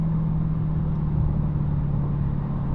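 A Dodge Challenger Hellcat Redeye runs with a constant loud engine drone and a steady high whine, heard from inside the car, unbroken and alone.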